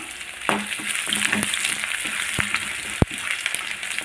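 Steady sizzling of ginger and garlic frying in a hot pan, with occasional sharp clicks and scrapes of a utensil stirring, close and fairly loud, no talking.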